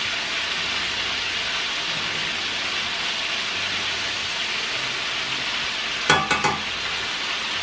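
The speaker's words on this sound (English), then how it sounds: "the cabbage here. Just want them to fry down." Cabbage frying down in a pan gives a steady, even sizzle throughout, with a brief burst of utensil clinks near the end.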